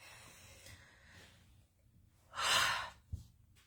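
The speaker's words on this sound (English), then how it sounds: "Okay, take a breath in." A single deep breath with a strong rushing inhale swelling up and fading out, then a brief soft catch, set in a calm guided relaxation session; close and fairly quiet against a faint background hum.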